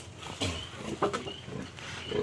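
Pig grunting in a pen on a rural farm, a few rough low grunts and snorts close by, with faint background noise and no talk.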